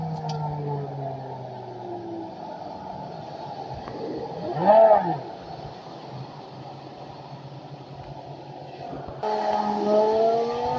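A BMW M5 E60 V10 is driven in manual mode with paddle shifts. The engine drones steadily, then pitch sweeps up around a gear change, a brief roaring peak follows, and a louder, higher note picks up near the end.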